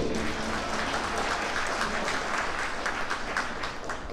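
An audience at a Korean art festival opening ceremony applauds steadily, a dense, even wash of clapping that holds at the same level throughout.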